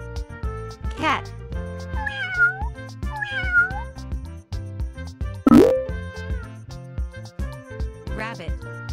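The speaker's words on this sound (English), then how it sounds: "Cat." A domestic cat meows several times in distinct rising-and-falling calls, clear and close, set against a busy musical backing with a sharp plop midway.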